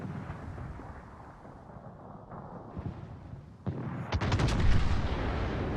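Heavy naval gunfire from the St. Vincent battleship in a competitive World of Warships match, with a low rumbling battle bed building into a loud burst of overlapping booming salvos near the end.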